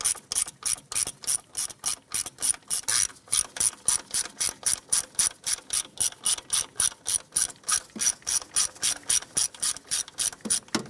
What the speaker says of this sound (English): Using a 5/16 socket, go ahead and remove these two screws.